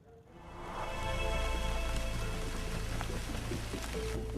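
Unseasonal rain during a hailstorm over farmland, a steady dense hiss of drops pattering on surfaces that swells in and then holds at an even, continuous level with no voices.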